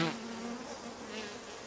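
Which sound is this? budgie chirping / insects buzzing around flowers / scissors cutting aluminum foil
insects buzzing around flowers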